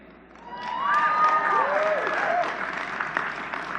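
Audience applause with some cheering fills a 2018 City College of New York commencement ceremony, a steady broad wash of clapping from a large crowd that swells after the first half second and holds, with whistle-like cries and voices mixed in.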